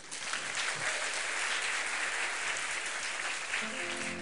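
A church congregation breaks into applause, a steady, full burst of clapping filling the room, with no talking over it.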